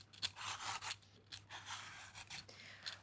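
Papaya being peeled on a cutting board, with repeated short rasping scrapes of the peeler across the fruit's skin in an uneven rhythm, close and fairly soft, with no talking.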